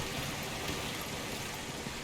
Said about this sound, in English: There's a waterfall there.